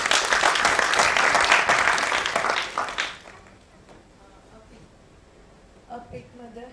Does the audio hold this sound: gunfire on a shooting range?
no